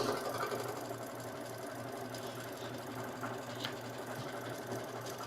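An embroidery machine stitches, tacking down fabric, a quiet, steady rapid mechanical chatter with a low hum, continuous and alone.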